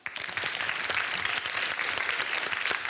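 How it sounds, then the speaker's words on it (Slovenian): A crowd applauds the winning primary school team at a school quiz derby, with brisk clapping that starts abruptly, holds as a busy, moderately quiet patter with some individual claps standing out. "En velik aplavz!"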